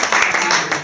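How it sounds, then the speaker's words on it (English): A small gathering claps for a woman turning 82, a short, fairly close burst of many hands with a voice or two mixed in. "So we can just give a round of applause for Liz"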